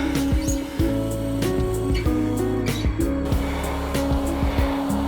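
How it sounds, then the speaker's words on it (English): A truck rolls past on a quiet wooded rural road in South Carolina, a loud, steady engine drone with shifting harmonic tones and tire noise filling the whole stretch, heard close by from a bicycle. "Truck just went by."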